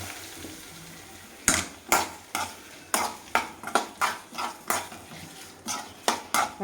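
A spoon scrapes and clinks in a pan as star fruit pickle is mixed with spices, asafoetida, garlic, curry leaves and sesame oil after the gas is switched off. About a dozen sharp, close, evenly spaced stirring knocks, with no voices.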